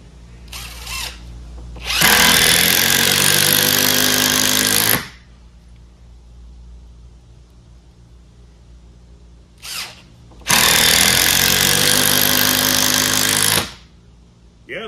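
A Bosch drill drives screws into wood without pilot holes in two loud, close bursts of whirring motor, each about three seconds long and separated by quiet, with short blips before each run.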